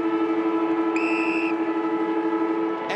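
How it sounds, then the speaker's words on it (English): A stadium siren at an Australian football match between West Coast and St Kilda sounds a steady, loud sustained tone, with a brief higher whistle-like note partway through over the background crowd. "he beats the siren by 2 seconds"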